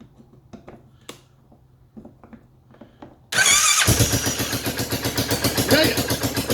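Kymco UVX500 side-by-side engine being started with a screwdriver during a rebuild: a few quiet clicks and taps, then a sudden loud catch into a rough, pulsing idle that continues close up.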